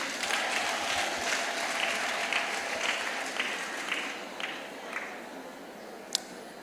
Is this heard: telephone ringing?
no